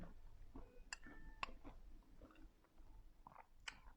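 Soft chewing of a Thai anti-aging breakfast dish with a chewy texture, eaten close to the mic, with a few clicks and crunchy bites over about four seconds and no talk.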